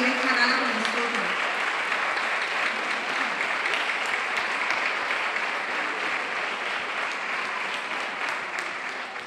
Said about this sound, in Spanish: Me gustaría pedir un fuerte aplauso para él